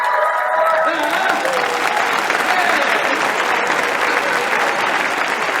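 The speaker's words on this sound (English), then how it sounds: "Could we have an Earthkeeper round of applause for the incredible Graham Hancock?" A large audience applauds and cheers for Graham Hancock at a talk on lost civilizations, a dense, loud, steady roar of clapping sustained throughout.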